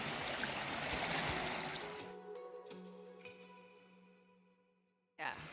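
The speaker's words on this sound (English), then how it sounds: "it is Clear Fork Creek early in the morning" Clear Fork Creek at Big South Fork in Tennessee flows early in the morning, a broad rushing stream that fades out midway, leaving quiet tones before the water briefly returns.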